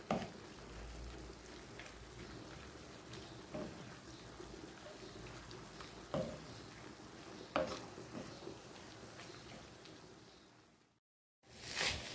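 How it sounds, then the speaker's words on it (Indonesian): Spinach and chicken are stirred in a pan, with soft sizzling and faint, irregular scrapes and taps of a utensil against the pan, steady and fairly quiet before a brief silence near the end. "Aduk sampai tercampur merata."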